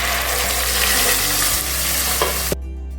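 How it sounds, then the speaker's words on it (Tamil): Masala paste with whole spices, curry leaves and green chillies sizzles loudly in a pan for chana masala, a dense steady hiss broken by scraping stirs, cutting off abruptly near the end. "இப்போ நம்ம மசாலா பேஸ்ட்டை போட்டு மிக்ஸ் பண்ணிக்கலாம்."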